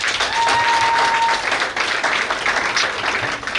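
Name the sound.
wedding guests applause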